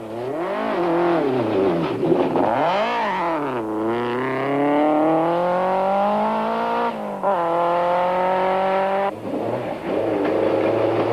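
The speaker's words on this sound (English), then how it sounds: "The Nissan is forced to make a 3-point turn, the flat tire slowing the team and adding valuable seconds to their time." Nissan rally car with a flat front tyre making a three-point turn on a 1992 rally stage: its engine revs rise and fall in repeated surges with gear changes and bursts of tyre noise, loud and close.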